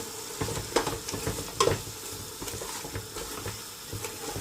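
Kheema biryani mixture with turmeric and Shan biryani masala powder is stirred in a pan over a medium flame, giving a steady close sizzle with repeated scraping, clattering stirring strokes.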